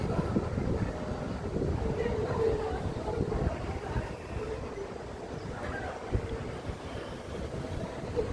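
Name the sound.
Southend Pier railway train running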